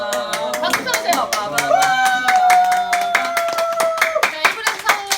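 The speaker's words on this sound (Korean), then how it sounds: "박수 쳐주세요." A group gathered for a Korean streamers' get-together claps in quick, sharp, rhythmic bursts, loud and close, over a sustained tonal voice or music.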